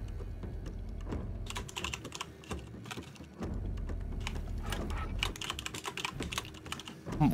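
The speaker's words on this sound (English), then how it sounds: "Why is my fucking keyboard so loud all of a sudden?" Rapid clattering keystrokes on a computer keyboard, steady and fairly close, with bursts of quicker typing over a low background hum during a gaming session.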